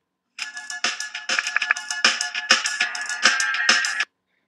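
A song played back in GarageBand after being sped up to a tempo of 160, heard as bright, bouncy electronic melody phrases in quick bursts, fairly loud and alone for about four seconds before cutting to silence.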